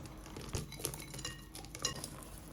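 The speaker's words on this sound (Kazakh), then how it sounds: "Сосын ыдысымызға салып, бәрін тағы да бір рет араластырып шығамыз." Cookie dough with chopped chocolate is stirred in a bowl, giving faint scraping and a few light clinks of utensil against the bowl in a quiet room without talk.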